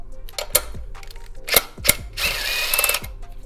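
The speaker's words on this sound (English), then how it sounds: "we're gonna pop off this bolt right here and then the 2 bolts on the power steering pump itself" A ratchet loosens bolts on a car's power steering pump during a kit install, heard as close, crisp clicking bursts and metallic knocks, with a longer run of rapid ratcheting near the end.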